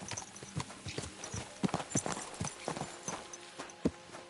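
A horse's hooves clip-clop in the video game Kingdom Come Deliverance 2, a run of irregular but steady hoofbeats at moderate distance with a soft background bed and no talking.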